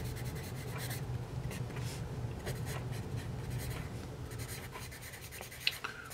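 A vintage Dixon Executive No. 2 pencil scratches across paper in close, steady strokes, a soft continuous rasp with brief lifts and one sharper tap near the end.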